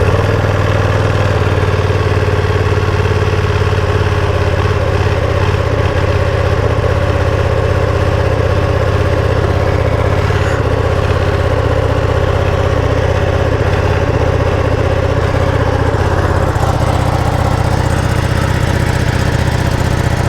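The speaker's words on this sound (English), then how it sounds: "This is the first start of the Ducati 959 V2." A Ducati Panigale V2 motorcycle engine idles steadily after a cold start, giving a loud, continuous, close-up rumble with a slight shift in tone toward the end.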